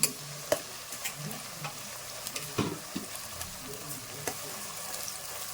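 Finely chopped onions frying for a country chicken curry, soft sizzling beneath repeated scraping stirs of a spoon in the pan, with a few sharper knocks scattered through.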